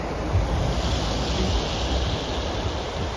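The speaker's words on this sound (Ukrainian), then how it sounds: "водоспад" Continuous roaring rush of falling water, broad and steady like a nearby waterfall in the Carpathian mountains, with no voices.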